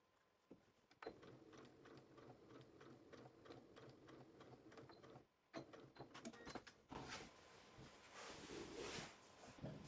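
A domestic sewing machine stitches homemade fabric piping in quick, steady bursts of needle chatter, pausing briefly mid-run before starting again, close and fairly quiet.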